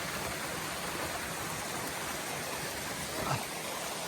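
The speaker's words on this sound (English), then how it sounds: "Oh, look at this, got a little waterfall there." A small waterfall in a stream, a steady broadband rushing wash of water, even and continuous, moderately close with no voices.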